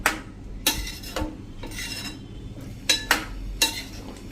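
A spoon scrapes and knocks against a pot while chickpea curry is stirred, giving a few sharp clinks and rubbing strokes at irregular intervals, close and fairly clear.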